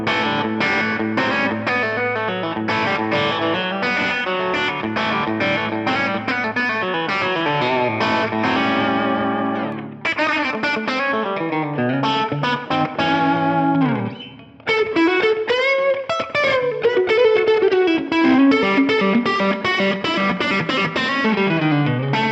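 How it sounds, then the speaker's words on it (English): Electric guitar through a Suhr Eclipse dual-channel overdrive pedal set to low gain, playing continuous crunchy chords and bluesy single-note lines with bends, loud and close, with no talk. "Let's try a more low gain overdriven sound."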